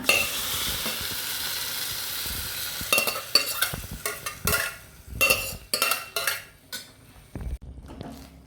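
A spoon stirs jackfruit seed and navy bean curry in a frying pan, scraping and clattering against the metal in irregular bursts over a light sizzle, close and fairly loud with brief pauses.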